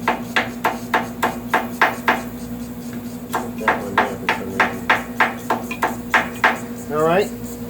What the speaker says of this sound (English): And then just light taps with a ball peen hammer.